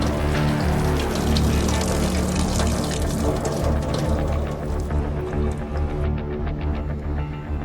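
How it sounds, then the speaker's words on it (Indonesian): A household tap runs at full flow, a loud, continuous splashing rush of water that stays close and steady, easing slightly toward the end, with no voices. "Siapa yang buka keran?"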